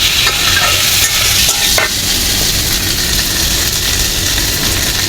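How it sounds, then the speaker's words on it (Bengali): Fried potatoes are stirred and mixed in a hot pan, giving a loud, steady sizzle of frying with scraping stir strokes throughout. "ভাজা আলুগুলো দেওয়া হলো, ভালো বলবে আবার মিশিয়ে নেওয়া হচ্ছে।"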